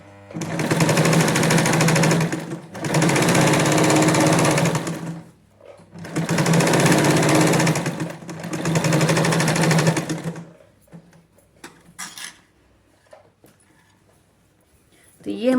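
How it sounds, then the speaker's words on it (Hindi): A sewing machine stitching a pocket on girls' shorts: four loud bursts of rapid whirring stitching separated by short pauses, then quiet handling sounds. "पॉकेट की इधर वाली सिलाई को कंप्लीट कर लेते हैं"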